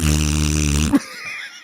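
A voice imitates a fart, a loud buzzing, rumbling raspberry that lasts under a second and ends abruptly, followed by quiet breathy noise.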